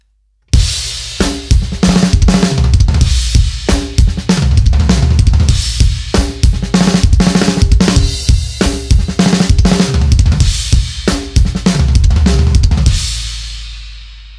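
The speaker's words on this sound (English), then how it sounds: "started keeping it on the snare and then moving it around the drums" Linear drum fill played on a full kit, moving rapidly between snare, toms and kick with cymbal accents: a dense, driving run of close, loud hits lasting over ten seconds before a final ringing decay.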